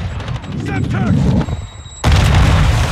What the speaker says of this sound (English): Throw Semtex.